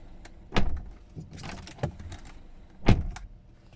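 A 2014 BMW 316i car door slams shut with a solid, close thump, followed by light rattling and clicks, then a second heavy thud.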